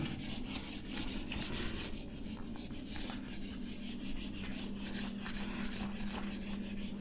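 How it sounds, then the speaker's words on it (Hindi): An object is rubbed to build up a static charge in a physics demonstration, making a continuous, even rasping rub that holds steady throughout, close and alone without speech. "मैं यहाँ पे रब कर देता हूँ थोड़ा सा ताकि आपको चीज़ें समझ में आने लगे"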